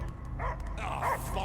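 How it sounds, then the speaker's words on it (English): A dog barks and yips in the game Guardians of the Galaxy, a few short close barks and whimpers over a low rumbling backdrop, with speech-like sounds mixed in. "I hear only barking."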